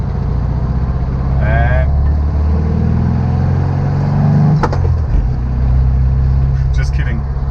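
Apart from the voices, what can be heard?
1976 Volkswagen Beetle 1600sp accelerating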